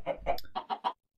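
Minecraft chicken giving a quick run of about five short clucks, close and fairly soft, with no other sound.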